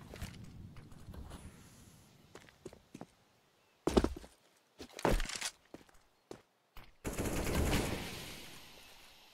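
Scattered gunfire in the video game CS:GO, a few separate sharp bursts and shots spaced apart, moderately loud, with quieter gaps and a longer sustained burst near the end.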